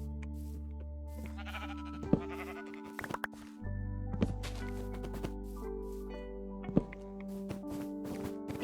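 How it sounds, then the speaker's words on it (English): A Minecraft sheep bleats repeatedly while being sheared, the game's bleating calls recurring close and loud over steady in-game background music. "I'm just gonna quickly shear that sheep."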